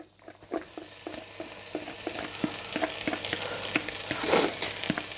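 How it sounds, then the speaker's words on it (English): Vegetables, including courgettes and aubergine, frying in hot oil in a pan for Greek gemista, a close, steady sizzle broken by clicks and scrapes of stirring, swelling briefly near the end. "Okay, our oil is hot, so we'll go in with a veg."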